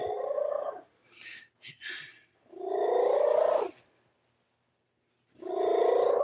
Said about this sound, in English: No, that's his purr. He's happy.